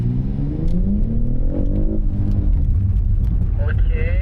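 BMW X3 revving and accelerating on a dirt course, its engine note rising steadily and staying loud, with a voice talking over it.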